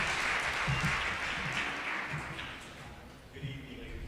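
An audience applauds as a baritone comes out to perform an ode to Robeson at a Rosa Parks and Paul Robeson remembrance event: a dense, steady wash of clapping with an emcee's voice speaking over it, tapering slightly toward the end.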